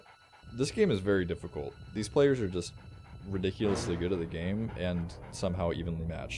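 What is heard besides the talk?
dog panting and whimpering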